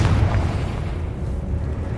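A Confringo explosive spell blasting spider eggs in Hogwarts Legacy, a short, loud boom whose deep rumble decays over a couple of seconds.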